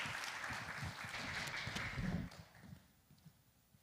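An audience claps to welcome a missionary at a church's Friday late-night prayer meeting. The applause is a dense, soft patter that holds steady for about two seconds, then thins and fades away.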